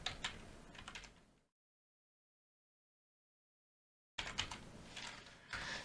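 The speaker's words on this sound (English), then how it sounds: "we're just going to have to type in local flavor" Fingers typing on a computer keyboard while setting up a Django web project: a close burst of rapid key clatter, a few seconds of dead silence, then another quick run of keystrokes.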